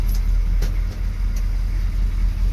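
An M1028A2 CUCV military pickup truck engine running steadily at close range, a low continuous rumble with a few brief clicks on top and no talking.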